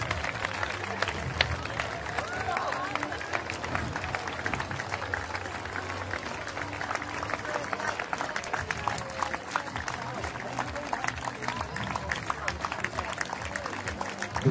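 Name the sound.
applause for a prize winner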